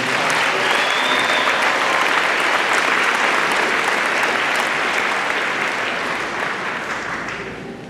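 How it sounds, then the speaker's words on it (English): Audience applause at a high school class of 2023 commencement ceremony, a dense sustained round of clapping from a large crowd in a hall that holds steady then gradually fades toward the end. "Let's have a round of applause."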